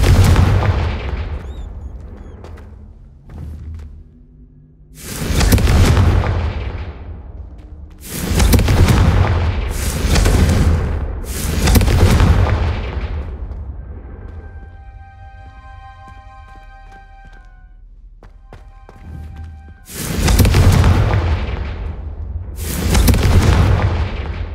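Incendio and Confringo spell blasts from the Hogwarts Legacy video game, a series of loud booming bursts about every two to three seconds, with a ringing shimmer between some of them and no voices.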